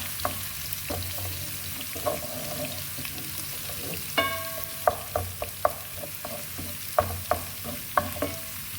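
Minced ginger, garlic and chili are stirred in a hot pan for spicy beans, a soft steady sizzle with regular metallic clinks and scrapes of the spoon against the pan.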